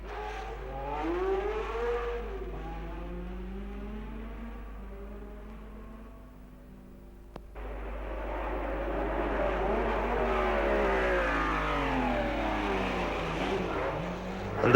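Formula 1 race cars at the 1963 Monaco Grand Prix: high-pitched engines wailing and rising and falling in pitch as cars pass, one after another, with no talking.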